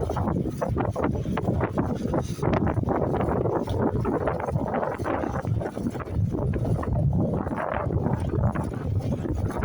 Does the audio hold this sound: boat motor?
yes